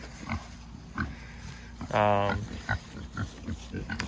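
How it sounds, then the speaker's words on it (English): Berkshire pigs on a roughly five-acre pasture give scattered low grunts and one longer, drawn-out squealing grunt, fairly faint and outdoors against a steady background hum. "These are some nice long pigs."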